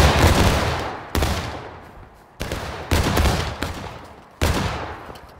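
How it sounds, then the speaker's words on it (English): Rifle fire in the Civil War game War of Rights cracks out as four separate loud musket shots, each trailing off in a long echo, spaced about a second apart. "Independent fire, make your shots, down."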